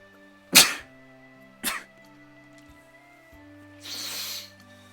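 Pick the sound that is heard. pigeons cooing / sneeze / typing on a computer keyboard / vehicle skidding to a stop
sneeze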